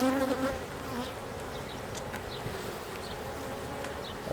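Honey bees buzz continuously around an open beehive during an inspection, a close, busy hum with individual bees droning past the microphone.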